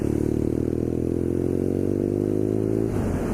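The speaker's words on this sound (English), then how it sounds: "rev the engine" A BMW R nineT Scrambler motorcycle with a standard Akrapovič exhaust revs up close, a loud, steady throaty roar that climbs slightly in pitch before dropping off near the end.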